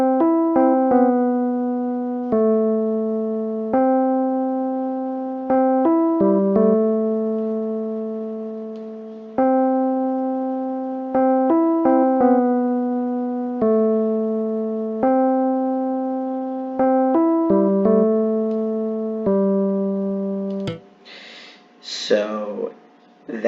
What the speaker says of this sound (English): I added in a Rhodes piano, and it sounds like this.